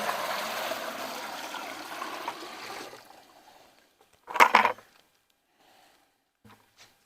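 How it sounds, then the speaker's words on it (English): Water poured into a homemade ceramic filter bucket, a steady splashing gush that tapers off, followed by a brief knock and a few faint handling sounds. "Then just take 5 gallons of water, pour it into your homemade"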